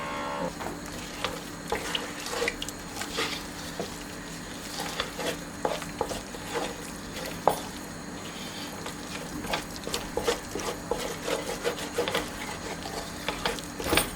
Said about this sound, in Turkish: Ta ki un kavrulana kadar bunu böyle pişireceğim.